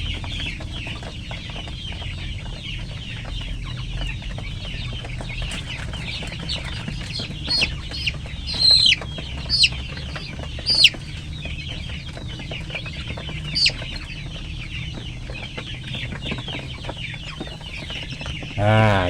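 KUB-breed chickens, grown birds being given medicine drops, cluck in short scattered bursts over a steady low hum, a few calls standing out in the middle section.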